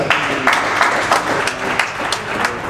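Audience applause at a comedy show, a live crowd clapping in a dense, steady patter with a few sharper claps standing out, fairly loud and close.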